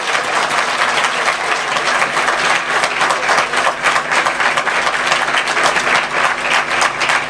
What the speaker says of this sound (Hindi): आइए हम प्रभु के लिए जोरदार अच्छी ताली बजाएंगे।